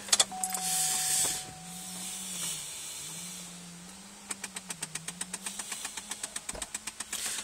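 A 2002 Chevrolet Trailblazer LTZ engine runs near and steady at a cold start, then a rapid, regular tapping sets in partway through, repeating about three times a second alongside a low engine hum.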